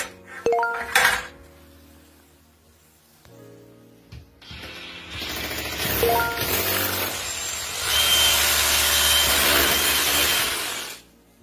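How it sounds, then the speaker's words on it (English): Loud, grinding SDS drill noise bites into a brick wall in sustained bursts, separated by a few clunks and quieter pauses. "depending on the type of wall, this one's this brick, we're going to use a SDS drill"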